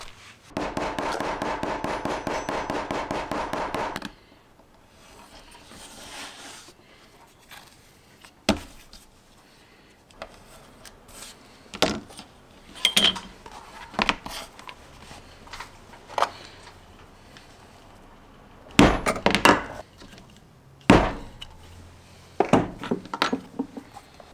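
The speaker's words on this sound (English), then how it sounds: "I'm gonna beat this down with a hammer" Sharp, irregular hammer impacts ring out one after another, some loud and some lighter, beating down stitches on leather, following a few seconds of dense rustling at the start.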